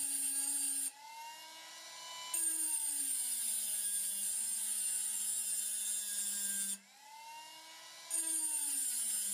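A rotary cutting disc slices through the metal of a fountain pen nib, a steady high-pitched whine of a small power tool with clear harmonics that dips briefly twice as the disc bites in, then climbs back up, close and loud.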